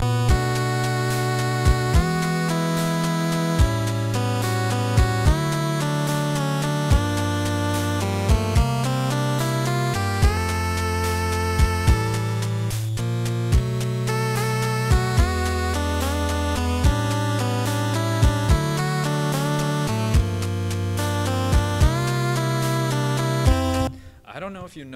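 Chiptune arrangement of a Phoenix Wright song built in FamiTracker, with steady square-wave pulse melodies over a repeating bass line, playing loud and continuous before cutting off abruptly at the end.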